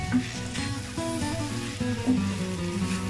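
Egg noodles with spices are stir-fried in a pan, producing a low sizzle under a droning, tonal hum with scraping stirs. The sound is close and moderate in level.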